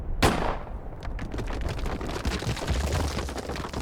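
A single sharp gunshot rings out close and loud near the start, followed by a dense rumbling, crackling aftermath like debris or a landslide that keeps going to the end.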